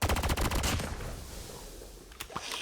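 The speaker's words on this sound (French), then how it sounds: "là on a l'effet d'élimination du premier niveau" Weapon elimination effect in a shooter video game, a loud rapid burst of automatic gunfire that fades into a lingering decay, then a few sharp cracks near the end.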